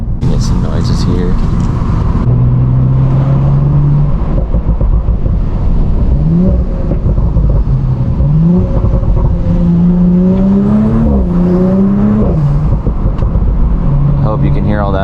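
Audi S4 with an 034 downpipe and stock cat-back, its engine droning loudly from inside the cabin while accelerating, with rising and falling turbo and intake whooshes and shift dips, someone talking over it.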